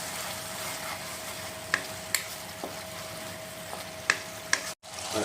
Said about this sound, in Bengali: এটা ভালো করে এগুলো মিক্স করে নেব।